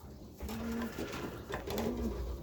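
Show pigeons in a pigeon loft give two soft, close, throaty coos about a second apart over a low background hum.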